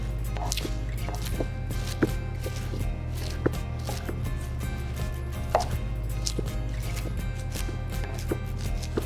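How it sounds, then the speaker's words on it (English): A knife rough-chops kale on a cutting board in a home kitchen, making steady, close, rhythmic thuds with a few sharper knocks in between and no voices. "we're gonna give it a nice rough chop because it's all gonna weld down"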